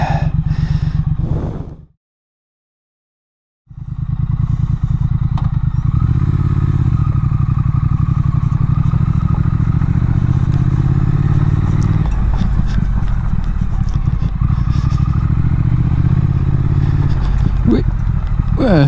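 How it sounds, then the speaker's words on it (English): A Triumph Thruxton motorcycle rides along a gravel lane with a loud, steady engine drone and rumble up close, broken by a brief drop to silence near the start, with gravelly clatter and a rider talking over it. "who would have thought that a Thruxton works as an off-road bike?"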